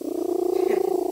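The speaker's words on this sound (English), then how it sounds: "If you hear purring in videos, this is where it comes from." A cat purrs loudly and close by, a rapid rhythmic rumbling vibration that pulses steadily throughout without any talk over it.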